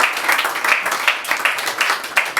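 A church congregation applauds in rhythmic waves of hand clapping that rise and fall, fairly close, with faint voices mixed in.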